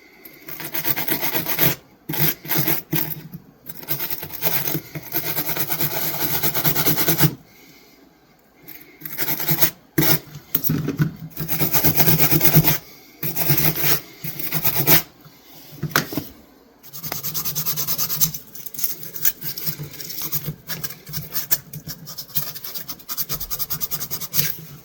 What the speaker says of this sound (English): I've just got a pretty soft wire brush here, and I'm just going to rub it, see if I can get most of that stuff off